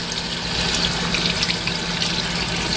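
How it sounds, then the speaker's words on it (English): Water runs steadily from a tap while a makeup sponge is rinsed under it, a constant close splashing hiss with no pauses and no talking. "Wash it with water."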